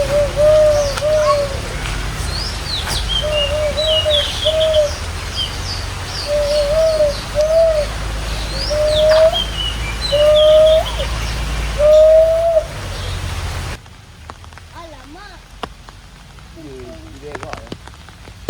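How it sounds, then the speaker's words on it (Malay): Heavy rain pours steadily at Taiping Zoo in Perak while a nearby dove or pigeon coos in an evenly spaced repeating pattern. The downpour then drops away to a quieter background with scattered drips. "Okay guys, hujan makin lebat ya guys."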